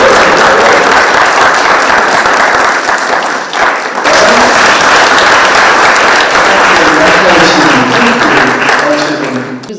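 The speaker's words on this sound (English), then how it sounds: "I expected a round of applause from Ghetto Classics." Members of Ghetto Classics give a round of applause at an event attended by First Lady Margaret Kenyatta, a loud sustained wash of clapping from a crowd lasting the full stretch, with a brief dip partway through.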